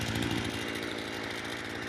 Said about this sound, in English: So we got a chainsaw going.